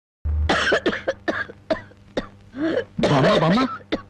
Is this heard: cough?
yes